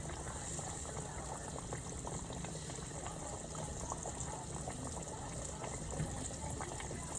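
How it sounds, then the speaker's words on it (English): Liquid bubbles and simmers steadily around cooking meat in a pot, a continuous soft gurgling boil with watery churning, fairly quiet and unbroken. "whenever the bubbles do rise, whenever it's cooking the meat, it would just come up and then sink back down"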